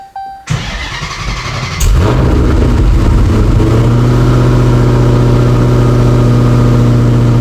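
A custom-built car engine cranks briefly, catches and settles into a loud, steady rev right up close, droning evenly to the end with no voices.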